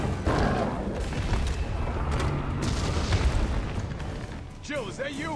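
Explosive rounds boom and burst in Resident Evil 3, a dense run of loud, rumbling blasts layered over one another, with sharper crackling pops near the end.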